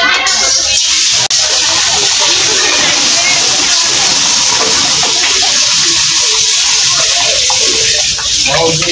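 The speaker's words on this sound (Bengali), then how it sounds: "জলটা দিয়ে দিলাম" Water poured into a pan of roasting semolina, a loud, steady rush and sizzle of liquid hitting the hot grain that continues for the whole stretch, close to the mic.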